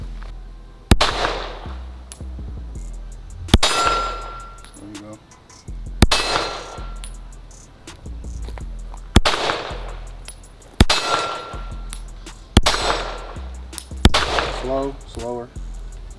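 Gunshots at an outdoor range land on steel targets. Each sharp crack is followed by a ringing metallic clang, about seven in all at uneven intervals of a second or two. A voice is briefly heard between some of them.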